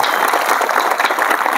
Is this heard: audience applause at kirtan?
yes